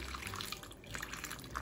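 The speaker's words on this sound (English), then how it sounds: "Now can you put more water?" Water poured into a cup holding flower petals, a soft steady trickle and splash heard close and alone with no talk.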